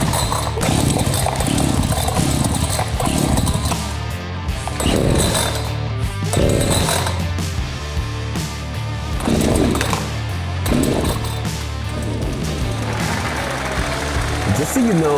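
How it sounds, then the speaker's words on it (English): An old chainsaw bought online and unboxed years later is being started, with repeated rough pull bursts and engine noise close by while someone talks. "I know how to start a chainsaw."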